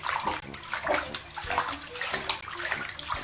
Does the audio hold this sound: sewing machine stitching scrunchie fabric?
no